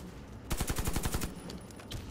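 Automatic gunfire in the shooter game Warface, a fast burst of about a dozen sharp shots lasting under a second, then a few scattered quieter shots.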